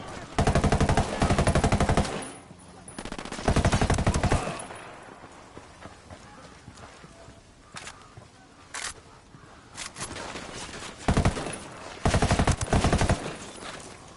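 Gunfire in Ghost Recon Wildlands, loud bursts of shots in clusters near the start and end, with quieter single cracks and lulls between them.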